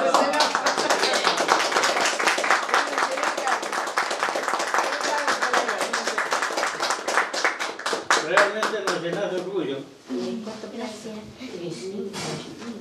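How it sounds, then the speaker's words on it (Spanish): A crowd claps steadily in dense, sustained applause, with voices speaking over it toward the end. "Un aplauso."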